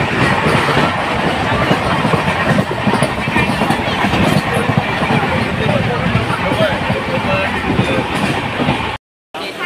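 Inside a crowded moving train, a dense steady rumble and rhythmic clickety-clack of wheels on rails fill the scene, with people talking underneath and a brief dropout near the end.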